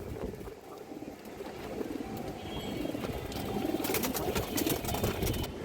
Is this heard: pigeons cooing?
yes